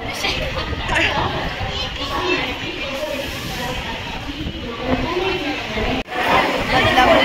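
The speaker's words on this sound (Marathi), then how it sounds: "गर्दी दाखवते तुम्हाला." Busy crowd chatter at a railway station near Badlapur, a dense babble of many voices with children's voices audible, steady and close.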